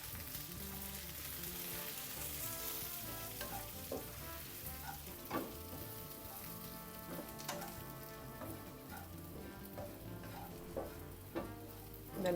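Roasted chili and spice powders heating in hot oil for a fish curry, a quiet steady sizzle with occasional soft stirring clicks and crackles.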